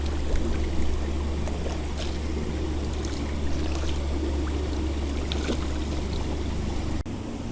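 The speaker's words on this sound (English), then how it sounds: "I'm making a lot of splashing getting them." Trout fingerlings at a nursery pond splashing in the water at feeding time, continuous close churning and splashing with scattered sharper splash bursts over a low rumbling water bed, no talk.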